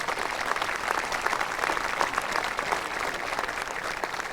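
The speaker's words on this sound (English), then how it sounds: "Please give them a round of applause." An audience at a high school graduation ceremony applauds, a dense, steady wash of many hands clapping at once that keeps going at an even level from start to finish.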